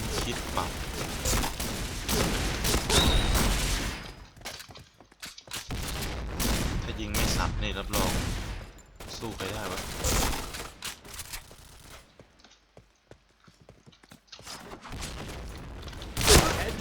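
Rapid bursts of Point Blank game gunfire crackle and pop in dense volleys from a SPAS-15 shotgun, with brief pauses, and a sharp blast near the end.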